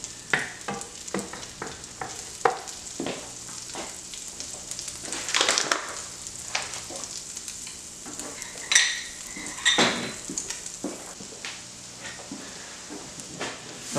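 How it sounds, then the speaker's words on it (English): Butter melting in a pan for shepherd's pie, with a utensil scraping the edges: soft frying sizzle under repeated close metallic scrapes and clinks, a few louder bursts of stirring, no talk. "Scrape the edges a little bit. I'm going to melt this butter."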